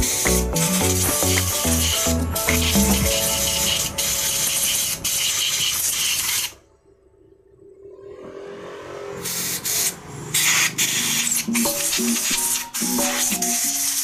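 Cleaner sprayed into the holes of a carburetor during servicing: loud, steady hissing bursts that stop briefly partway through, then resume, with no talk.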